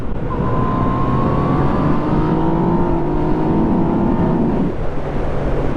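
A Yamaha MT-09 SP naked motorcycle engine pulls hard and loud for several seconds, its steady whine climbing before an abrupt drop near the end.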